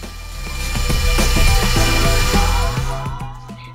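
An electric mixer whisks egg whites and caster sugar at high speed for macaron meringue, giving a steady close-up motor whir with faint rhythmic rattling from the beaters, and it winds down toward the end.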